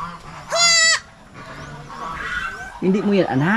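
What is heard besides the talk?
goat bleating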